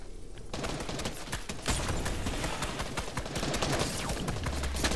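Rapid, dense shotgun blasts fire in a video game, a continuous loud barrage of close gunfire with little pause across the whole stretch.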